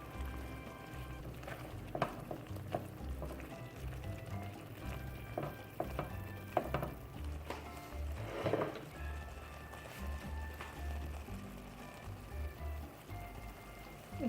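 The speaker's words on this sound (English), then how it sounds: "Now we can go ahead and stir at the bottom, making sure that nothing stick on the bottom and in the corner" Bicol laing, taro leaves simmering in coconut milk, being stirred along the bottom and corners of a pot: soft scraping and gentle bubbling sizzle, with a few louder utensil knocks against the pot, steady and close.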